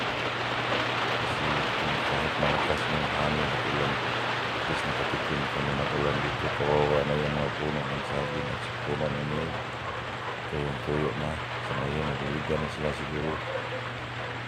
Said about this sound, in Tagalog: pagtuloy-tuloy na itong ulan na ito